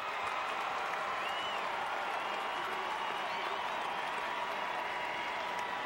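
Arena crowd applauding after a women's NCAA college gymnastics floor routine at Utah, a steady wash of clapping and murmur that fills the whole stretch at moderate level, with some voices mixed in.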